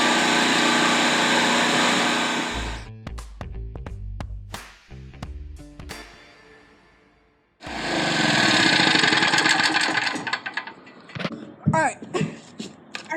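Predator generator engine running, a loud steady engine drone that cuts out, followed by scattered clunks and clicks, then starts again and runs roughly with irregular surges.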